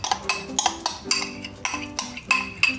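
A spoon scrapes and clinks against a bowl while Senegalese chicken yassa ingredients are mixed, giving close, rhythmic strokes about every half second with metallic chinks and no talking.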